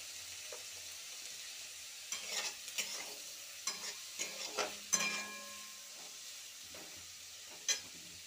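Onion frying in a pan with a soft sizzle under repeated stirring scrapes and knocks of a spoon against the pan, close and moderately loud, with no talking.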